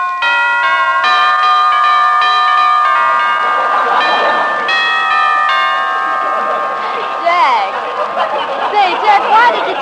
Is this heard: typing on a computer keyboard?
no